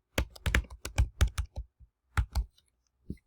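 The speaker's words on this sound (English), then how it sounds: "you would just type it in" Rapid bursts of computer-keyboard keystrokes, close and crisp, in a few quick clusters with short pauses and a final lone tap, no voices.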